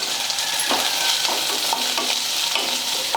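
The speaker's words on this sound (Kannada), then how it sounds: "ಈ ಉಳ್ಳಾಗಡ್ಡಿ ಸ್ವಲ್ಪ ಫ್ರೈ ಆಗ್ಬೇಕು ರೀ." Onions, garlic and curry leaves frying in hot oil for capsicum masala rice, with a continuous close sizzle broken by soft stirring scrapes every half second or so.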